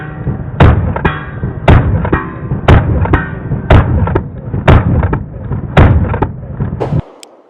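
Rapid pistol shots from an Atlas Titan 2011 fitted with a red dot sight, fired in quick strings of sharp, loud cracks with short pauses between bursts, close and ringing over a low rumble.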